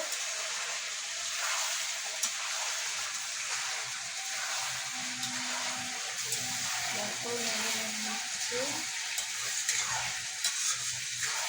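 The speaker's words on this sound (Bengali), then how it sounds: "ঢাকাটা তুলে নিলাম, নিয়ে এবার নেড়ে নেবো।" Chicken kasha cooks in an uncovered pan with a soft steady sizzle and faint hiss, and brief scraping stirs come through now and then.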